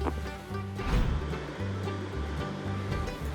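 The Mayo River rushes beside a hiking path, its water making a steady broadband roar with gentle swells in intensity, close and continuous.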